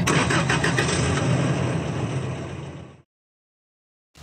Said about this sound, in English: Kudor, drive us to the facility.